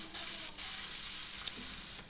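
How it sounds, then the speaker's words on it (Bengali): Potato pieces fry in oil while being stirred repeatedly, producing a close, steady sizzle broken by brief scraping bursts from the stirring. No voices are heard. "দেখো এভাবে আমি আলুটাকে বারবার করে নেড়ে দিচ্ছি আর ঢাকা দিয়ে দিচ্ছি"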